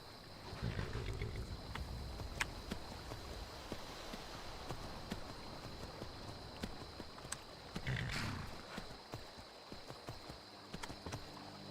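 Horse hooves sound in the video game Skyrim, a soft irregular clopping under a dense rumbling ambient bed with a steady high tone, at low level throughout.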